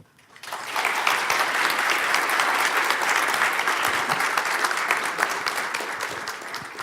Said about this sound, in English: please give her a really, really big applause